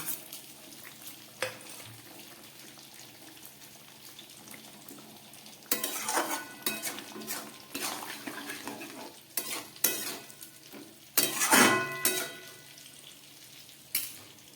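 Fried eggplant is stirred into cooking vegetables for a fish-head chhyachra. A soft background sizzle is broken by loud bursts of spatula scraping and clattering against the pan, close by and without talk.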